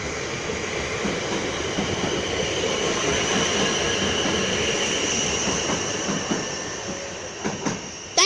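Class 444 electric train, unit 444026, moving through Petersfield station in the rain, a steady rumbling roll of wheels and motors holding throughout, with clicks of rail joints and a couple of sharper knocks near the end, no voices.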